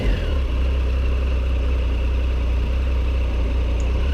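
A 2017 Triumph Tiger Sport's three-cylinder motorcycle engine idles steadily up close, a continuous low throbbing rumble holding an even level with no voices.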